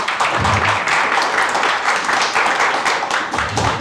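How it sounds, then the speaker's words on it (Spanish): An audience at a Spanish-language gospel workshop gives a strong round of applause: a thick, continuous wash of clapping with a few heavier low thumps, loud and near, with no speech. "Un fuerte aplauso, por favor,"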